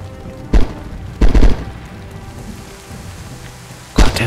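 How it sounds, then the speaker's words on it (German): Heavy rain falling in DayZ on the Livonia map: a steady, loud hiss of rainfall runs throughout, broken by a few sharp, booming thuds. "Gott, der Regen ist halt so laut."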